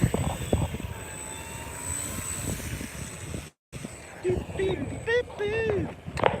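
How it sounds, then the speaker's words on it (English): Airplane engine droning through a quick takeoff at a fundraiser flight, a steady buzzing whine under people talking nearby, the sound cutting out briefly partway through. "Going for the quick takeoff."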